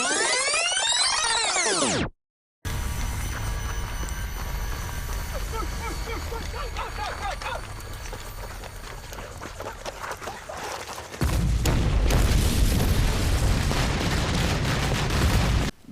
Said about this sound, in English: Their escape is celebrated by a fireworks display